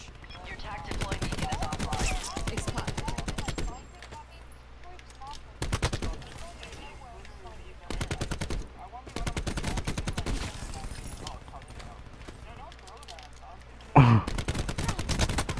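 An ICR rifle in a wall-penetrating shooter video game fires in loud, rapid bursts through walls, volleys repeating with short quiet gaps between them and a sharp final burst near the end.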